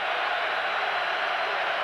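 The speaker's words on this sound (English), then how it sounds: "Crowd rising" A packed football stadium crowd at a 2004 Monday night game between the Minnesota Vikings and Philadelphia Eagles gives off a steady, dense roar that holds level as fans rise for a third down.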